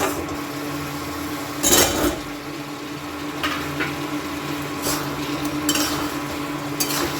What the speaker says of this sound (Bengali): মাংসের সাথে মশলাটাকে ভালো করে মিশিয়ে দিচ্ছি